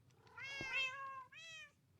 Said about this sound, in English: All these cats.